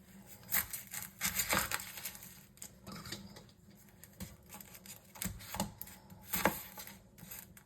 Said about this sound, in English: Next, I'm going to dice up about half an onion.